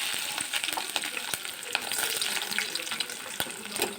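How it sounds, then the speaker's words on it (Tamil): Chopped onions with green chilies, lentils and fenugreek sizzling and frying in hot oil in a home kitchen pan, a steady crackling hiss with occasional stirring scrapes, no voices. "நல்லா வெங்காயம் வதங்கணும்"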